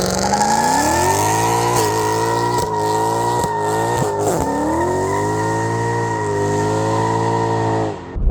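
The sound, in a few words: V8 luxury saloon doing a burnout, engine revving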